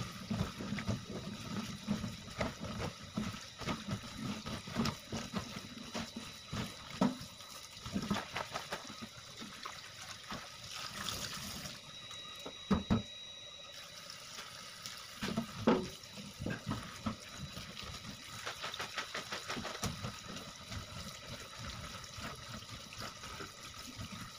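Running tap water splashes steadily into a sink while fresh chili peppers are rinsed by hand in a home kitchen, a continuous close wash with small clatters and brief pauses, no speech.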